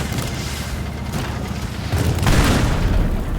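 Rocket explosions in the video game Teardown, heard as dense rumbling booms, with a heavier blast surge near the end, over a constant noisy backdrop.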